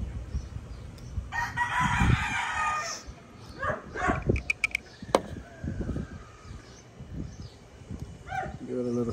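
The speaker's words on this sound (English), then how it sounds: "we got our little chicken right here" Rooster crows and a chicken clucks nearby at a fowl pox vaccination, with short bursts of crowing and clucking between bits of handling noise and talk.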